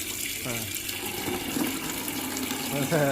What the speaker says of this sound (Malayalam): പൈപ്പ് തന്നെ തുറക്കുന്നു, വെള്ളം പിടിക്കുന്നു